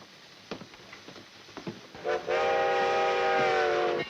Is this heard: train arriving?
yes